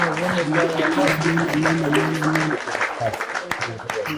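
A church congregation claps and cheers in praise, a burst of applause mixed with raised voices, lively and fairly loud before it thins out.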